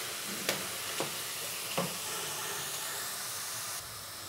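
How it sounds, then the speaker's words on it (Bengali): Onions frying in oil in a pan, stirred slowly to make crisp fried onions, giving a steady soft sizzle and hiss with a few light scraping strokes of the spoon near the start. "এবার আস্তে আস্তে নেড়ে বেরেস্তা তৈরি করে নেব।"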